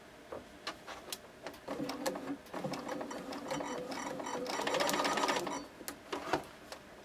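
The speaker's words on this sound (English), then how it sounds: "Now I'm going to sew my dart." Sewing machine stitching a dart in fabric, running in short bursts of rapid mechanical whirring and ticking with brief stops between them, close and moderately quiet.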